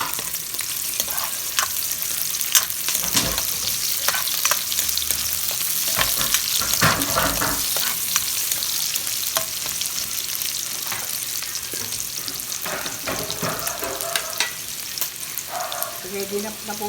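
Garlic and then onion hit hot oil for a vegetable stir fry, producing a loud, unbroken sizzle with scattered sharper crackles and spatula knocks throughout.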